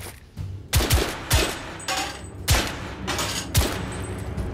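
Bursts of gunfire from the Victorian-era shooter video game The Order: 1886, with several loud shots and short volleys spaced roughly every second, booming impacts ringing out over a steady background of game ambience.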